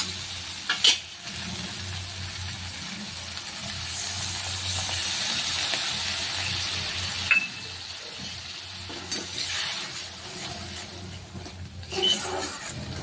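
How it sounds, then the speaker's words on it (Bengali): A paneer mixture simmering in oil and water in a pan, giving a soft, steady sizzle and bubbling hiss with a few faint clinks of stirring throughout. "খানিকক্ষণ এইভাবেই ফুটবে, তেলটা ছেড়ে যাওয়া পর্যন্ত"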